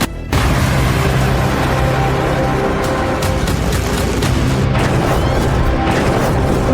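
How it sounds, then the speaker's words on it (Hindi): Explosions in war footage from Tehran, loud booming blasts and rumbling that fill the whole stretch, with sharp bursts standing out near the middle and toward the end. "तेहरान में धमाके"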